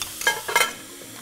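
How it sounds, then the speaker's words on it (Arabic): Liver sautéing in a pan, with two brief bursts of sizzling and stirring near the start that fade into a quieter low crackle. "الكبده اتشوحت"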